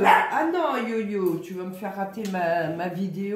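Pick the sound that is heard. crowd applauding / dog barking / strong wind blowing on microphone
dog barking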